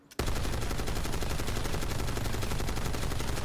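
Sustained automatic fire from an XMG in a video game, a loud, rapid, evenly spaced burst of shots that starts abruptly and runs without pause, with no voices.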